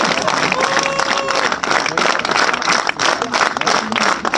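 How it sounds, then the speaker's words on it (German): An audience bursts into loud, close applause for a boss being introduced, clapping and cheering rising and falling in uneven waves. "Applaus."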